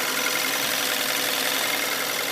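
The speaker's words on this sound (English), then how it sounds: "These GDI engines have a unique sound to them." A 2014 Hyundai Elantra GT with a GDI engine idles steadily and close by, a continuous mechanical hum with a faint ticking texture, loud and unbroken throughout with no voices.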